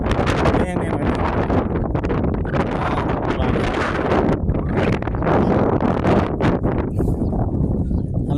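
Strong wind blows steadily outdoors near water, a loud continuous roar of gusts buffeting the microphone throughout.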